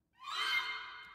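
A single atonal woodwind rip from an orchestral action cue, a quick upward smear that blooms to full loudness and then tapers off over about a second, heard alone.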